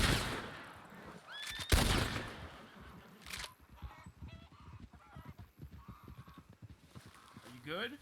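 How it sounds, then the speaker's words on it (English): A single sharp gunshot fired into the air in the Wild RP western game, loud and close, set among honking, horse sounds and a voice talking afterward. "I'm firing a shot in the air to get their attention."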